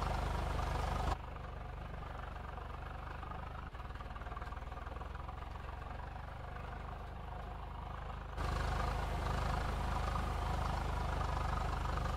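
A 4x4 tractor engine in Farming Simulator 22 with an Indian mod runs at a steady, close idle-like drone. Its level drops slightly after the first second and rises again near the end.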